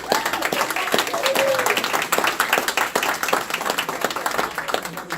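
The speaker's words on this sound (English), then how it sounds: "let's give her a round of applause" A round of applause fills a room at an Edgewood, Joppa and Joppatowne community advisory board meeting, with sustained clapping from a crowd and a murmur of voices beneath it.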